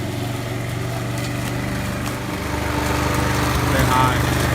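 A lawn mower runs steadily while cutting grass on a residential lawn, its engine drone continuous and close, rising slightly louder near the end. A voice may be faintly present beneath the motor.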